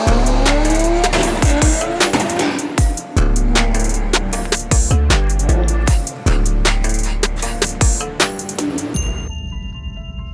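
A car drifts on a track in second gear, its engine roaring loud and near while the tires squeal and skid in long sliding wails, ending in fading tire squeaks.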